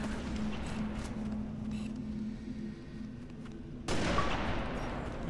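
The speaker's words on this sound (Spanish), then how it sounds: "Disparos." Dense bursts of gunfire from the video game Halo Reach rattle continuously, with a sharp jump to louder, harsher shots near the end.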